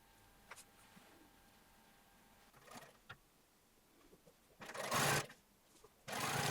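Sewing machine stitching the side seam of a pair of jeans, quiet at first, then two loud bursts of machine running near the end.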